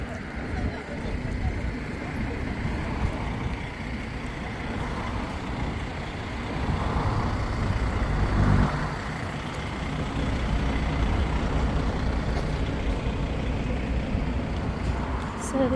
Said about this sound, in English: A pretty bus.